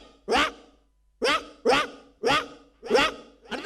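A performer on a Malayalam comedy stage imitates a poor household's dog with his voice. He gives about six sharp, evenly spaced barks, near and clear.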